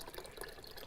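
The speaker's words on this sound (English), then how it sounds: "you are going to add 2 cups of pineapple juice. We'll pour everything in and then stir" Pineapple juice pours into a Christmas punch mixture, a brief, faint liquid gurgle and splash heard close by.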